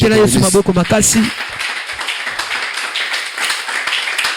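A church congregation at a Sunday service clapping and acclaiming Jesus Christ, with a voice speaking at first, then steady applause with taps and cheers carrying on to the end.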